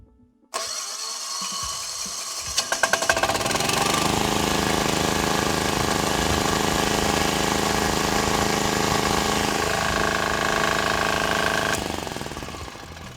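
A diesel generator engine cranks briefly, then catches and runs at a loud, steady chugging rumble before slowing slightly near the end.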